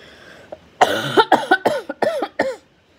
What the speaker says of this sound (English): I'm still coughing a little bit